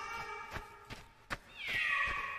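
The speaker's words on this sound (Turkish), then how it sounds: "şu kedilere bak." Several cats meow in a kids' song setting, with a few short sharp calls followed by a longer, rising, tonal meow near the end, fairly close over a soft background.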